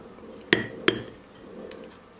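An egg piercer punches a small hole in an eggshell with two sharp, close clicks in quick succession, then a fainter tap, against a quiet room.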